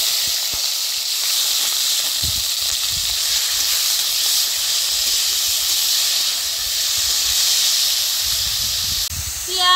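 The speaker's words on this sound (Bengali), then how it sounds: "পেঁয়াজ রসুন কাঁচা লঙ্কা আমি হালকা করে ভেজে নিছি" Grated onion, garlic and green chilli frying in hot oil with cumin, giving a loud, steady hiss and sizzle that holds for the whole stretch, with faint clinks beneath.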